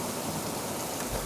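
Steady rain falls outside, a continuous broadband hiss with a soft patter of drops, filling the scene evenly and without a break.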